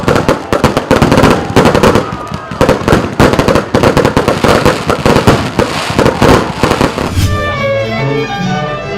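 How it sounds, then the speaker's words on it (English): A fireworks display in Anambra bursts in rapid, loud crackling volleys with dense repeated bangs for about seven seconds, then fades into a quieter tail with faint voices. "The evenings were wrapped up with incomparable spectacles of fireworks"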